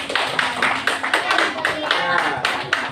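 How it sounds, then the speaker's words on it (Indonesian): Students in a classroom clap for a classmate, a short run of distinct, rhythmic clapping bursts with a roomy, close sound and light voices mixed in. "Tepuk tangan buat Alvaro."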